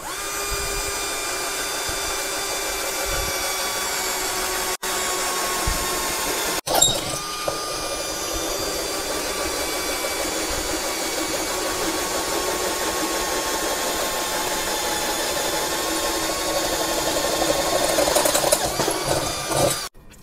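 A Bosch GSB 120 Li cordless drill on speed 1 with an 8 mm bit bores through 1.8 mm hollow iron, giving a continuous close, high-pitched motor whine with a couple of brief bumps and a louder grinding push near the end.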